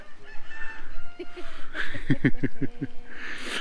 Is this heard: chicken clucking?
yes